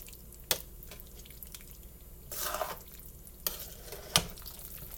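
Spaghetti and meatballs in sauce are stirred with a few sharp utensil clacks against the container and a brief wet squelching swirl of sauce between them.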